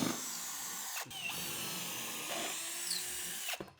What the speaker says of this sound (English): just the time you want your drill to slip when you don't have a third hand